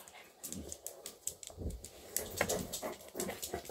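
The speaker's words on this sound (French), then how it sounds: "Avoir tous ces chiens dans la maison" Several dogs move around inside a house, with soft panting, whimpers and the sharp clicks of claws tapping on the floor in an irregular patter, fairly faint and close.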